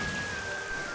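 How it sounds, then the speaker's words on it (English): Rain in Metroid Prime Remastered patters softly and steadily as a faint, even hiss of falling droplets over one second. "the rain droplets hitting the sky"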